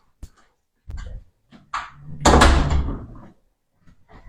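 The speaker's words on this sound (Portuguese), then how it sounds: "Deixa eu só fechar uma porta aqui, gente, que tá dando eco" A door being shut indoors in a room with noticeable echo: a few soft knocks and shuffles, then a loud thudding close with a short reverberant tail, followed by quiet.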